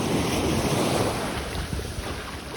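Ocean waves roll onto Hua Hin beach in Thailand, a steady wash of surf blended with wind gusting across the microphone, with no voices.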